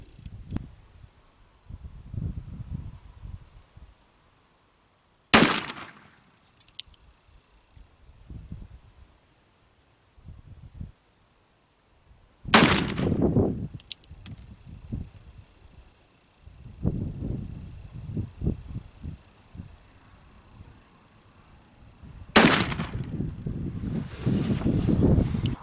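Three shots from an 1858 Remington black-powder revolver ring out several seconds apart, each a loud sharp crack followed by brief echo, with outdoor wind and rustling between them.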